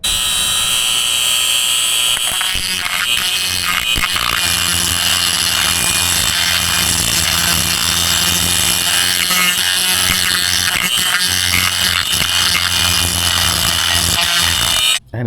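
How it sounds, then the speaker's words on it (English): A Dremel grinds a metal lowering-link bracket for a Royal Enfield Himalayan 411, a loud continuous high-pitched whine with grinding texture that runs steadily throughout and cuts off abruptly at the end. "All right, so pull out the Dremel"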